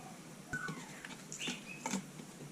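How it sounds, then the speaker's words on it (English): A pet bird named Merlin gives a few short, scattered chirps and tweets at moderate distance over about two seconds, the calls brief and irregular against a quiet room. "In the background you can hear Merlin chirping away as I'm doing this voiceover now"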